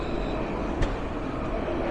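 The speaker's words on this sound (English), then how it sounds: "Lewis is our tram system that runs" A Luas tram passing on Dublin's north side, with a steady, moderately loud rolling rumble and a brief sharp click partway through.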